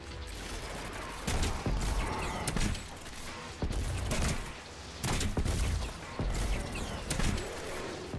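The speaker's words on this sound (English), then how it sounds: "More grenade launcher fun." Heavy grenade launcher rounds fire and burst in Destiny 2, each loud thump and explosion arriving at roughly one-second intervals.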